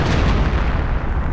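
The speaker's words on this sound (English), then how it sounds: "we're going mortar fire for mortar fire" Mortar and artillery fire in a 1 vs 1 Valor tournament match roll on as a continuous, loud barrage of booming blasts with no gaps, heavy low rumble throughout and no voices.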